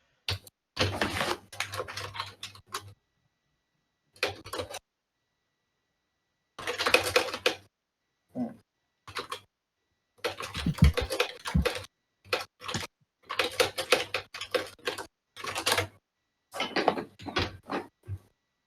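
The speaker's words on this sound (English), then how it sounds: "I'll just type it real quick." Quick typing on a computer keyboard in bursts of rapid clicking, separated by silent pauses, close and fairly clear with no talking.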